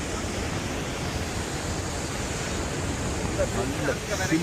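Chilly wind blows by the water near Niagara Falls, a steady, fairly loud broadband rush with gusty microphone buffeting and a faint wash of surf beneath.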